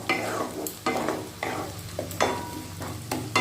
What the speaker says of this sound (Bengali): এবার গ্যাসের ফ্লেম লো টু মিডিয়ামে রেখে মশলার সাথে বিট বাটাটা ভালো করে মিশিয়ে নিচ্ছি।